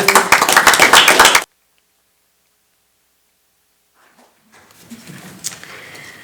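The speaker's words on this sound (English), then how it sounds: "All right, we'll clap for you." A brief burst of clapping from a small group at a county school board meeting for about a second and a half, then silence, followed by faint rustling and shuffling.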